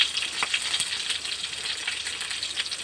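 Fresh curry leaves fry in hot oil alongside cumin seeds, giving a continuous close sizzle flecked with small crackles and sharper pops, with no voices.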